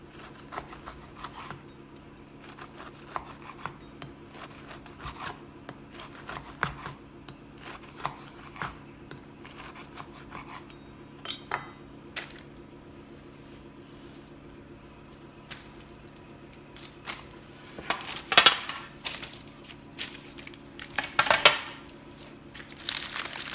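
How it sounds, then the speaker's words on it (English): Baked cranberry and pepita biscotti are cut with a knife and the pieces set on a tray, giving quiet crisp crunches and taps, close up, with louder clatters near the end. "you can cut quite a few pieces at once and then put them on the tray as well"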